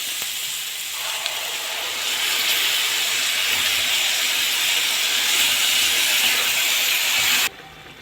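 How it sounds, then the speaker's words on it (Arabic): Tomato juice poured into a pan of sautéed peppers, onion and garlic sets off a loud, broad sizzling hiss. It swells after a couple of seconds, holds steady and then cuts off sharply near the end, with no talk. "بعد كده بنزل بعصير الطماطم الخالي من القشر."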